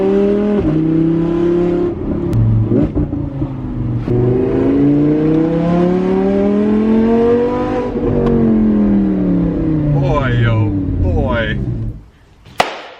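A salvage Audi R8 V10 with straight pipes revs repeatedly, its loud, close engine note climbing and falling in several sweeps before cutting to a brief quiet and a sharp click at the end.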